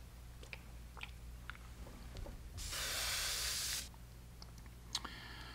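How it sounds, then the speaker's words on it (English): An airbrush spraying hard during a rinse-out, a dense steady hiss lasting about a second and a half that stops abruptly, with faint clicks and handling noises before and after over a low hum. "I'm going to rinse the airbrush out again"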